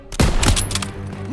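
Gunfire in the WWII shooter Call of Duty WWII, a loud volley of several overlapping shots with rapid bursts at the start, then a ringing decay under battle ambience.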